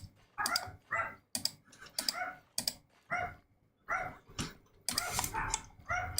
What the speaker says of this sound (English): could you just stop barking for 5 seconds?